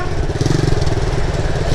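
A motorcycle engine runs steadily in first gear as the clutch is let out for a first-time rider, giving a dense, close, continuous mid-pitched drone with little change in loudness.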